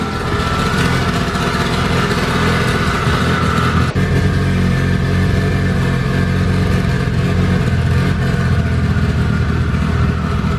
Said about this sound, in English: We got John on the dyno doing his thing.